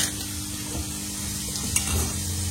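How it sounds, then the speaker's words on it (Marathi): Marinated fish frying in hot oil in a village-style kitchen gives a loud, steady, close hiss and crackle with no break. "तर मित्रांनो आता हे फ्राय साठी आपण ठेवलंय."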